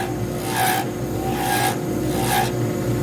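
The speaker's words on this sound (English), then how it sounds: "now what I'm doing is I'm grinding that edge down" An acrylester diamond painting pen blank has its edge ground down in three rhythmic back-and-forth rasping strokes, close and moderately loud over a constant background hum.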